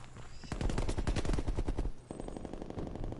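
Rapid automatic rifle fire from an AK-47 or AK-74U in a video game, two loud sustained bursts of close, rhythmic shots separated by a brief gap.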